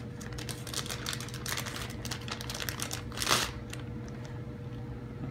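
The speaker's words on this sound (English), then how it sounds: "A little Ziploc bag, so we'll open that up." A small plastic Ziploc bag is handled and opened close up, with rapid crinkling and clicking rustles and a brief louder crackle midway.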